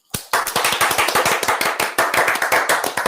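An audience at a French TV music show claps for a host. The applause is a lively, close burst of individual hand claps that starts abruptly and keeps up a brisk, uneven rhythm, with no talking.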